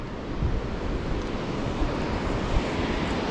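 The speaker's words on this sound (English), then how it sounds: "You could hear the water, just how fast it's moving from all the way up here" Fast-moving water of the Carbon River rushes below the Fairfax Bridge near Carbonado, Washington, heard from high above as a steady, broad roar with some wind noise and no talking.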